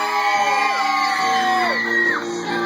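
A live bar-stunt crowd whoops, yells and cheers loudly and continuously around a head-shaving and minnow-swallowing event, with rising shouts layered throughout.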